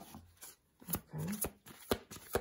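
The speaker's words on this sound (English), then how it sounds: "But let me shuffle more the cards, you know." Tarot cards being shuffled by hand, a quiet series of soft papery riffles and slaps in irregular bursts, close and faint with no talking.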